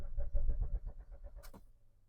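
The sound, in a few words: Swift Dzire engine cranking with self-starter, out of petrol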